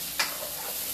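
Peppers and other vegetables frying in a pan for a quick Asian-style dinner, a steady soft sizzle with one brief louder burst near the start, then a faint, even hiss.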